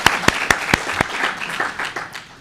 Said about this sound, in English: a round of applause, you know, to all the teachers in the province